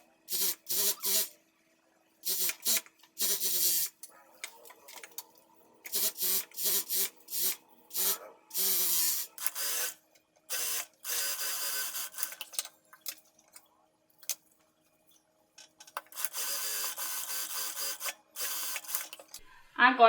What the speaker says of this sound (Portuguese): agora eu vou lá para a máquina overlock, passar uma costura para unir essa lateral tanto do tecido principal quanto do forro